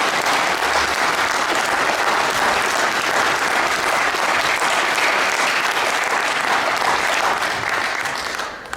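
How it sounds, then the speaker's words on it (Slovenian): Audience applause at a charity concert in Gorje, a dense, steady wash of many hands clapping for about eight seconds, loud and continuous before fading slightly at the end. "Dajte en aplavz, prosim."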